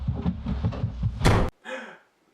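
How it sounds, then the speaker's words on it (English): A door slams hard in a horror film, one sharp loud bang that cuts off suddenly and leaves a short fading tail. Muffled rhythmic thumps come before it. "The door slammed."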